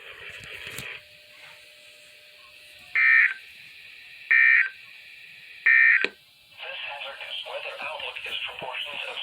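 An ER210 weather radio receiver, during a required weekly test from WXM20 in Lincoln, Nebraska, sounds three loud, identical EAS alert tone bursts about 1.4 seconds apart. Quieter broadcast audio plays before and after them.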